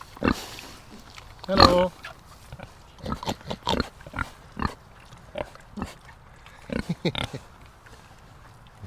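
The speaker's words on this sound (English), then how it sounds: "These are Coon pigs." Kunekune pigs, including a big boar with large tusks, grunt and oink in short bursts on a farm, with a loud close squeal early on and a brief spoken greeting among the calls.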